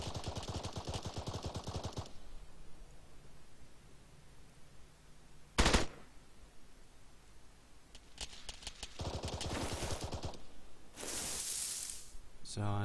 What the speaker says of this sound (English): So yeah, I hear that guy with the machine gun.